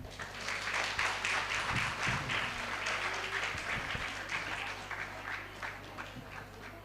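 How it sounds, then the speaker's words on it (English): Faint, scattered applause from an audience at a nursing college education event, honoring third-year BSc Nursing students, soft and distant over a low steady hum. "give them a round of applause to our third year BSc Nursing students"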